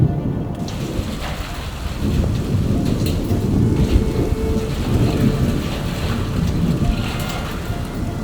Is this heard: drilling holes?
no